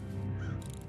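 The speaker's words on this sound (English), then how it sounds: "when you start running, you spook the birds" Startled crows cawing briefly and faintly in the stealth game Thief, set against a constant low rumbling ambience.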